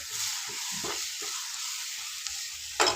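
Flour stirred into a hot pan while cooking udhuru pitla, village style from North Karnataka, a soft steady sizzle with a few scraping stirs and a louder scrape at the end.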